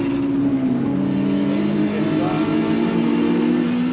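A 250 bhp Mk2 Ford Fiesta race car pulls hard on track, its engine note holding a steady, loud tone that shifts in pitch as it accelerates.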